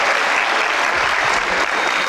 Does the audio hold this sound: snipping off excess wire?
no